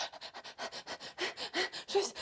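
A voice imitates quick, shallow breathing: a rapid series of about a dozen short, airy puffs in steady rhythm, close to the microphone.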